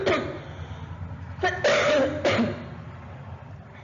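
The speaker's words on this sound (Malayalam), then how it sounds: "പനി പോയാലും നമുക്ക് ഇടയ്ക്ക് കുറച്ച് സമയം സംസാരിച്ചു കഴിഞ്ഞാൽ ചുമ വരും" A person coughs in a few harsh bursts while still recovering from a fever, with throat-clearing sounds mixed in, close and fairly loud against a quiet indoor background.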